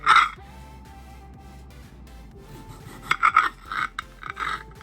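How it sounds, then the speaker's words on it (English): Roma tomatoes are sliced on a board for dehydrating, giving soft knife rasps and scraping strokes in short irregular bursts, close and fairly quiet with small handling sounds between them. "I'm going to start cutting the tomatoes up and putting them on the trays."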